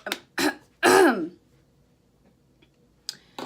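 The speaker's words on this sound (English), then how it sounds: "I'm trying to like clear my throat every 5 seconds for you guys" A sick person clears their throat in a few short, rough bursts, close and loud, followed by a faint click and a brief quiet gap.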